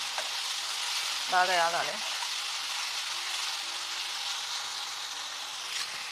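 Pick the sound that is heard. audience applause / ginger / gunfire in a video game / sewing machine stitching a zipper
ginger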